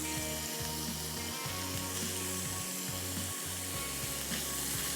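Chicken qeema with garlic frying in a pan, bhuna style, gives a continuous soft sizzle under a low steady hum with periodic scraping and stirring noises, with no talking.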